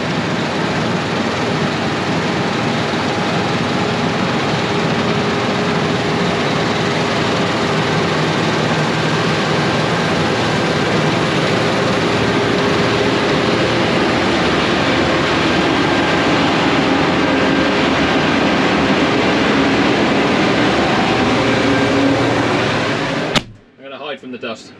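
A combine harvester with a levelling hillside system works a wheat field nearby, its steady, loud mechanical roar and threshing hum running unbroken for over twenty seconds before cutting off abruptly.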